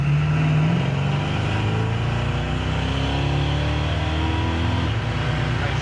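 Small-block stroker V8 in a 1968 Chevrolet Chevelle with an automatic transmission pulls hard under acceleration, its pitch climbing and then dropping as a gear shift comes through, loud and close throughout with no talk over it.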